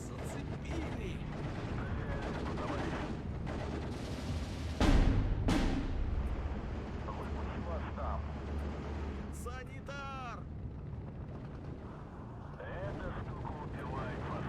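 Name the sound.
mortar shells and gunfire in the video game Steel Division 2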